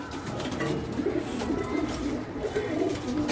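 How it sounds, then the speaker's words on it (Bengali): Pigeons coo inside their coop on a house rooftop, a soft repeated throaty warble close by with faint rustling and no talking. "এই হলো আমার পায়রার ঘর পায়রাগুলো কি করছে একটু দেখি"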